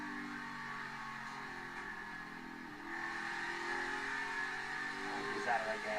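NASCAR Cup Series race car at Loudon in 2021: a steady engine drone that swells louder partway through as the car accelerates, with commentary speech over it.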